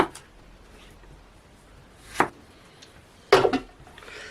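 A knife cuts the tops off tomatoes for sauce, giving two distinct sharp cutting knocks over a quiet background, near and fairly loud.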